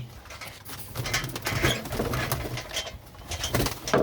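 A busy flock of pigeons, with soft cooing and fluttering, shuffling movement close by, continuous throughout with no talking.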